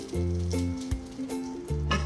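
Onions and mushrooms frying in a pan with a steady close sizzle, harmonic tones from the stovetop audible throughout, cooked for a steak sandwich.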